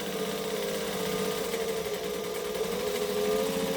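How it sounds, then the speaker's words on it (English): A sewing machine on a long stitch length runs steadily along the edge of a lunging pad, an even, close mechanical whir without pause. "I am actually going to now stitch the whole edge."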